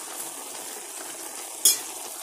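Green tomato and brinjal being stirred in a pan with salt and turmeric, giving a steady soft sizzle with one brief sharp scrape of a utensil.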